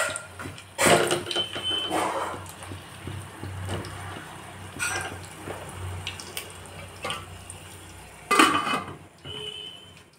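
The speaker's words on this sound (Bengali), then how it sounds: "তেলটা আমার গরম হয়ে গেছে, এতে আমি আলুগুলো দিয়ে দিচ্ছি।" Potatoes frying in hot oil in a covered pan for Kashmiri aloo dum hiss in bursts, the sizzle rising and falling under occasional clatter of a utensil or lid, with no talking.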